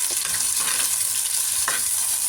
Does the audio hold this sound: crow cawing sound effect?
no